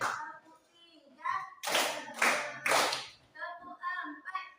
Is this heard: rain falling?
no